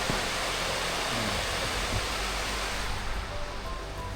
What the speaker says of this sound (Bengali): একদম তুমুল জোরে বৃষ্টি হচ্ছে